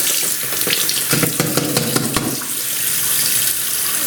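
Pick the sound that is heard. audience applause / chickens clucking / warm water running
warm water running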